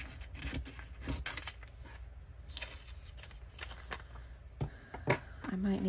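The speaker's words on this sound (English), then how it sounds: "I'm just going to use my scissors for this." Scissors snip through craft paper at a crafting table, giving a few short, crisp cuts amid light handling and rustling, heard close and fairly quiet.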